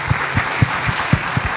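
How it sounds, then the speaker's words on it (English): An audience claps together at a symposium, the applause dense and steady at moderate loudness, with a few sharper claps standing out in a quick, even rhythm. "I think they deserve a round of applause for that"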